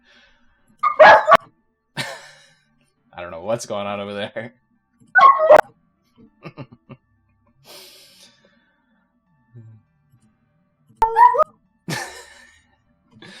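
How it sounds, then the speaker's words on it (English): A dog barks in short, sharp bursts with a yip and a snort, scattered across the recording while a person speaks briefly. "I'm muting for a second, just hear the dog bark."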